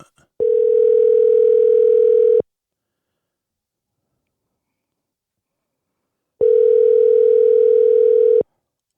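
Telephone ringback tone while placing a call, two loud steady electronic tones each lasting about two seconds, separated by four seconds of silence, with no voices.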